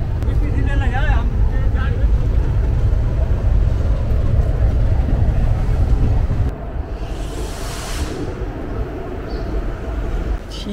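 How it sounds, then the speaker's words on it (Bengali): Train 12821 Shalimar–Puri Dhauli Express pulling into Shalimar station, heard from inside an AC chair car as a steady, loud rolling rumble that eases partway through, with voices talking over it. "আমাদের ট্রেন ঢুকছে"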